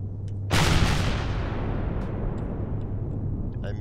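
A gunshot in the space survival game Empyrion - Galactic Survival: one sudden, loud, heavy blast that hits hard and then rolls off into a long fading rumble lasting several seconds, with a few faint clicks near the end.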